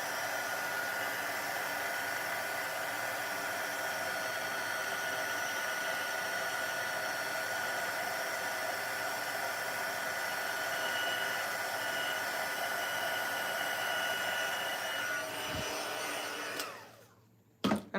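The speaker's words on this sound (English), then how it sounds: "I'm just going to bring my heat tool in and heat emboss my sentiment." A handheld heat tool blows steadily and loudly for about seventeen seconds as it melts embossing powder on a Christmas card sentiment, then cuts off abruptly near the end.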